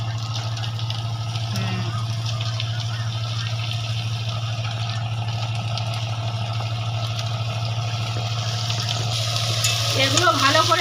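Chopped vegetables stir-fry in hot oil with browned onions in a home kitchen, a steady loud sizzle with scraping stirs throughout, growing busier toward the end; a low constant hum sits underneath.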